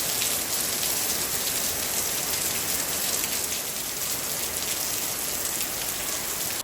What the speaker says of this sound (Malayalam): ഇങ്ങനെ കണ്ടിന്യൂസ് ആയിട്ട് മഴ പെയ്യുന്ന സമയങ്ങളിൽ മഴ നനയുന്നത് വളരെ നല്ലതാണ്.